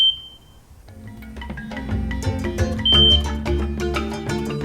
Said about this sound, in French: on va débrancher le câble d'alimentation et vérifier qu'une alarme retentisse